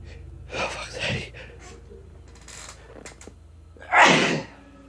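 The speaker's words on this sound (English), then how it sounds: "my sneezing is bad" A person sneezes loudly and close by, a sharp burst near the end, after a nasal sniffle and a gasp earlier, during a horror game play session.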